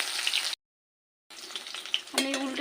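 Potatoes frying in a pan give a close, bright sizzle with stirring, broken by a short silent gap before the crackle returns and swells.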